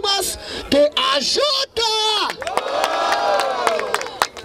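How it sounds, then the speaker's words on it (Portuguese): Spectators at a street rap battle in Barueri, São Paulo shout and yell in drawn-out cheers with a few claps. At the start, individual voices call out loudly, then a broad roar of crowd noise swells. "Barulho para as rimas de AJ!"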